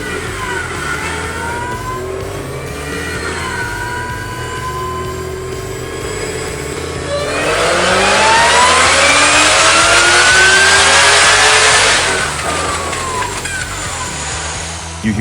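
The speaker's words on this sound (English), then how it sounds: "That's the sound of an 800 horsepower GT 500 blowing its guts out on the" An 800-horsepower GT500 engine revving hard on a dyno while failing, a loud, close roar that climbs in pitch, surges to a peak midway, then drops back.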